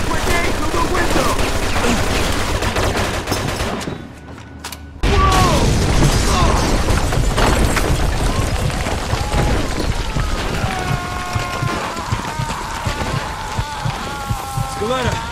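Combat in the video game Mafia 2, with a grenade thrown through a window: dense gunfire and clattering crackle fill the scene, a short near-silent dip, then a loud burst followed by continued firing, with voices shouting over it.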